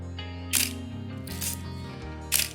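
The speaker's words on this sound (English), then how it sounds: "the sound of that shutter. Let me play the shutter for you." A Canon New F-1 film camera's mechanical shutter fires three times, each a sharp metallic click-clack spaced about a second apart, close and crisp over a low steady hum.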